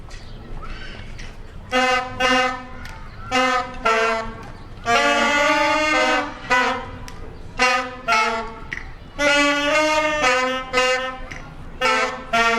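Small group of five young saxophonists playing together at a school band concert, loud sustained reedy notes in short phrased bursts with brief gaps between, close and clear over a faint room hum.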